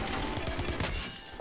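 Short burst of rapid automatic gunfire striking the player in Black Ops Cold War, a quick clatter of overlapping shots at moderate loudness with no talk.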